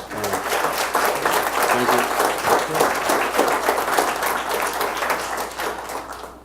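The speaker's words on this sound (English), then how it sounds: "can you guys give a big applause for the speakers?" Audience applause at an analytics conference session, dense and sustained clapping from a full room that carries steadily for several seconds before easing off at the end.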